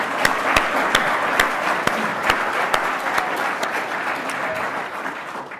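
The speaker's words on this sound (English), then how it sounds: "Can I just have a round of applause for the guys that have organised this?" Audience at a British Constitution Group conference in 2017 applauds the organisers, with dense, steady clapping and a few sharp, loud individual claps standing out across the whole stretch, no voices.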